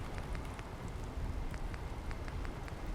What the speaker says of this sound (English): Oh no, we've got a thunderstorm coming in. That's okay, actually. I love the rain.